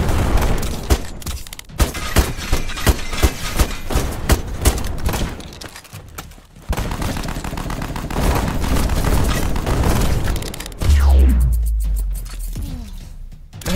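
Rockets and gunfire in the airship game Black Skylands crack and boom in rapid bursts, with dense volleys, a quieter gap midway and a heavy low blast near the end, loud and close with no talking.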